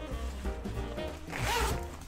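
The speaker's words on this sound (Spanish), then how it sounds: "Tiene aquí una cremallera toda molona." The zipper on a backpack is pulled open in one close, rasping sweep that grows louder toward the end, with a low background hum throughout.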